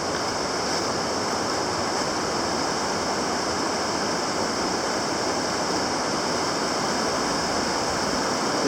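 Rushing water of the Goshen Prong stream along a mountain backpacking trail near Clingmans Dome, a steady, dense broadband roar with no pauses, close and unbroken for the whole stretch.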